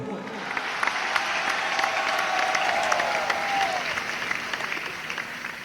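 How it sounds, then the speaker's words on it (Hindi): An audience at a Hindi poetry recital applauds the poet, a dense, steady wash of clapping that holds for the whole stretch, with a faint thin whistle-like tone gliding through the middle. "जोरदार तालियां बजाकर आदेशित करें भाई रुद्र को"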